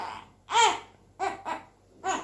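A one-month-old baby girl cries in short separate wails, four bursts spaced unevenly, close and clear against a quiet room.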